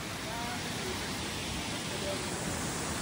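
A waterfall roars as a steady, faint broadband rush, constant throughout with no breaks, on a hiking trip in Pyuthan.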